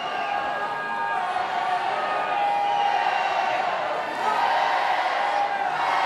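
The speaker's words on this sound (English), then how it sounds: "So the crowd really trying to make a difference now as we come into the death throes of this game" Rugby stadium crowd roaring and cheering steadily through a tense late stage of a match against Italy, a dense, continuous wall of voices with whoops rising near the end.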